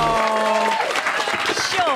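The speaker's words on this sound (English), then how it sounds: "Can we have a colossal round of applause for Lauren Laverne?" A radio studio audience applauds for Lauren Laverne on a final breakfast show, with brief applause that is partly masked by a voice and tonal sound at the start and end.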